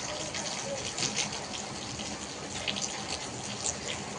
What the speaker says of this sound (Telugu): వర్షం అయితే పడుతుంది